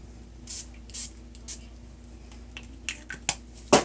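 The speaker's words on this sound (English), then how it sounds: "you are going to spray maybe 1 or 2 times" A few short, sharp hissing bursts of a makeup setting spray bottle, spaced irregularly, close to the microphone, with small clicks in a quiet room.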